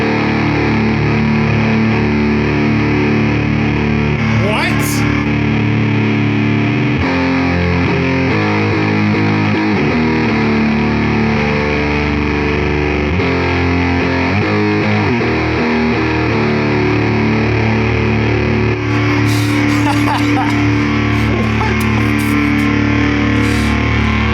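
Fuzzy, saturated electric guitar through a Big Muff-style fuzz pedal with an OPA2279 op amp rings on continuously with long sustaining notes and a dense, gritty tone, played alone at a steady loud level.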